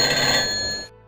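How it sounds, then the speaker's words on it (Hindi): A telephone rings with a bright, steady electronic trill, close and fairly loud, then cuts off abruptly after about a second into near silence. "एक दिन अचानक उसके स्कूल से उन्हें फोन आया।"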